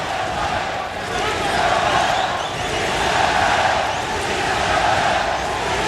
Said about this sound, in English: The crowd trying to urge Chavez on, but it's not helping.